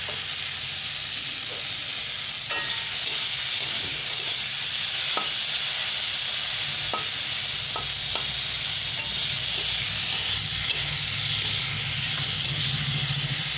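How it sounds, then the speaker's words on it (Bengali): Amodi fish fries in a pan with a steady broad sizzle and hiss, broken by occasional sharp clicks of a utensil stirring against the pan; close and continuous, no talk. "আর একটু ভাজা হোক, তবে জল দিয়ে দেবো।"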